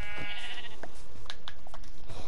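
Several Minecraft sheep bleat one after another in short, wavering calls, fairly close and loud over a faint background hum.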